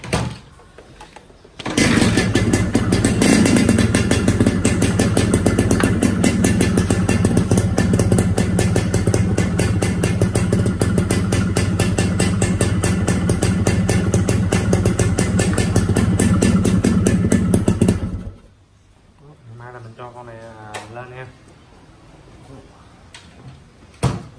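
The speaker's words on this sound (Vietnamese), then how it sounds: "Để mình nổ máy luôn nha." A motorcycle engine starts at night and settles into a loud, steady idle for about sixteen seconds, then shuts off abruptly, after which someone talks quietly.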